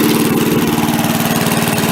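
An MTD push mower's small engine runs loud and close with a steady, rapid pulsing drone, in poor running condition, barely changing as the throttle is worked.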